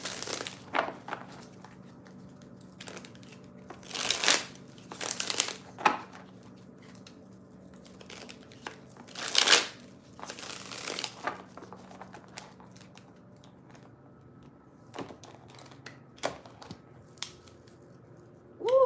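Several crisp bursts of a tarot deck being riffled and shuffled, each a short papery flutter, separated by quieter rustling and handling noises.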